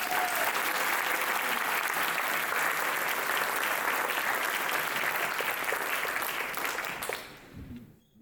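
Sustained applause from an audience at a Helene anniversary event at UNC Asheville, steady and full for about seven seconds before tapering off, with a few claps trailing at the end.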